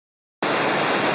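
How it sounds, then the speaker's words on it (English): A waterfall on Flat Laurel Creek: after a brief silence, a dense, steady rush of falling water starts abruptly and continues loud and unbroken. "The falls on Flat Laurel Creek. They don't even have a real name, but incredible. That's a big, beautiful drop there."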